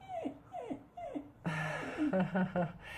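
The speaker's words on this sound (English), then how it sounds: "And my dog agrees with you." A dog whimpers and whines in a series of high, falling cries, three short whimpers followed by a longer run of yips and whines, close and fairly quiet.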